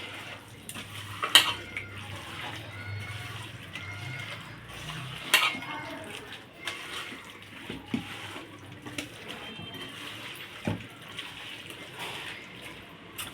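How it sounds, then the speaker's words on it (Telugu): Chili powder, salt, turmeric and oil mixed together for Andhra-style fish curry, with soft wet squelching and scattered clinks of a utensil against a dish, fairly quiet and close. "ఇప్పుడు ఇవన్నీ వేసుకొని కలుపుకోవాలండి"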